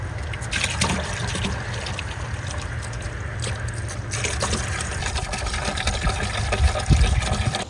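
Water poured from two jugs into a swimming pool being closed for winter makes a steady splashing, trickling flow, moderately close and continuous, with slight surges near the end.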